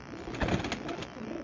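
A Teddy pigeon gives a brief, low coo, soft and close, with a slight swell midway and no talk over it.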